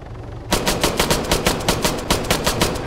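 Automatic gunfire in the video game Arma 3, a loud rapid burst of shots that starts abruptly and keeps a fast, even rhythm, close and with no talking.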